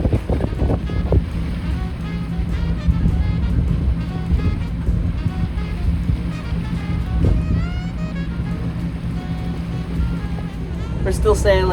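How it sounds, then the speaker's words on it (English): A sailboat motor sailing overnight on the open ocean from Charleston toward Florida, a steady engine drone with wind buffeting and water wash running throughout, and faint voices briefly under the noise. "We're motor sailing because the main just flopping around."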